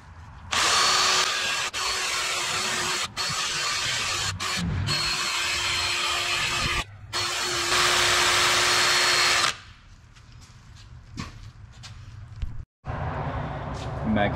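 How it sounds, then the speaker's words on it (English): A wire wheel on a power tool scrubs grime off a rear differential in loud, sustained bursts of grinding whir broken by brief pauses, then fades to quieter shop clatter and handling noises. "start cleaning this up with our wire wheel"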